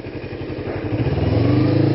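A motorcycle ridden on a public road along Mulholland Drive, its engine thrumming steadily close by as the throttle opens and the revs climb smoothly, with no talk.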